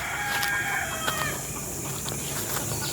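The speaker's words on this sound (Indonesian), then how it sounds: "itu ayam tuh, ayam sana sukanya biasanya banyak" A rooster crows outdoors over a steady, hissing outdoor ambience, its call drawn out and set back at a moderate distance, with no voices.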